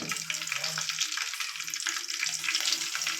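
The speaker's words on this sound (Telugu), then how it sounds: "ఆవాలు చక్క మొగ్గ వేగాక పచ్చిమిరపకాయలు" Mustard seeds and green chillies frying in hot oil as a base for country chicken curry, a continuous close crackling sizzle with faint stirring, heard alone.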